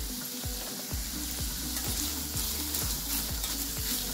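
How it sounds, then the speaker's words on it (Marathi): Onion fries in a pan with a little salt, a steady close sizzle punctuated by regular soft scraping strokes of stirring, about two per second. "आणि छानपैकी आता व्यवस्थित आपण लालसर करून घ्यायचा आहे हा कांदा"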